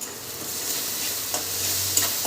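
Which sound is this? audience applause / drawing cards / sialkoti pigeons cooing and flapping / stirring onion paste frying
stirring onion paste frying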